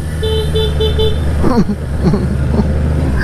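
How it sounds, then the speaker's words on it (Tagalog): A Honda CB650R motorcycle horn gives a few short, bright toots, then road noise and brief voices follow; close and fairly loud. "pakinggan nyo yung busina, parang Mio"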